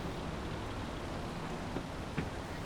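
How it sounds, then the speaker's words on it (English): Rain falls in the farming video game Farming Simulator 22, a soft, even hiss of steady downpour with a couple of faint taps, quiet and continuous with no talking. "Don't know where this rain came from."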